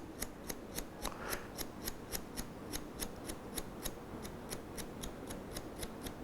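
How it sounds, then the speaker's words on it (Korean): Scissors snip hair at eyebrow length in a salon haircut, a steady series of about twenty-two crisp, evenly spaced clicks, close but faint, over a quiet background hiss. "눈썹 정도에서 머리를 잘라줍니다"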